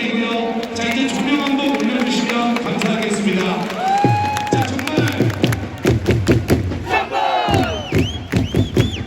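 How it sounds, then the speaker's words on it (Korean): Stadium football fans at a Jeonbuk Hyundai championship celebration roar and chant loudly, then break into rhythmic unison claps and shouts, with a voice over the loudspeakers in the mix. "자, 우리 녹색 전사들에게 자, 뜨거운 박수 한번 부탁드리고요."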